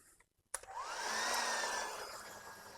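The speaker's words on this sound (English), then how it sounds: "heat gun." A heat gun kicks on after a sharp click and runs with a steady, airy whoosh and a faint rising whine, blowing on a hot resistor and sustained for a couple of seconds at moderate level.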